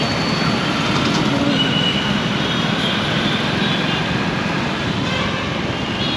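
A metro train runs through an elevated station in Hyderabad, a loud steady rumbling roar of wheels and motors that fills the whole stretch with no voices.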